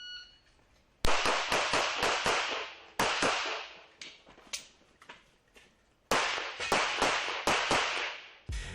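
Sharp gunshots crack in rapid volleys at an indoor shooting range, with three bursts of closely spaced reports separated by short pauses, each shot ringing with a quick echoing decay.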